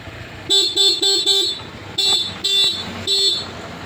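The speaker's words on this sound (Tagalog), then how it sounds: "Ano niya ini loud horn?" A motorcycle horn beeps in a quick series of four short honks, then three more spaced toots, loud and close over faint background noise.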